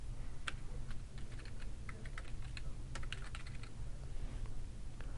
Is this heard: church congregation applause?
no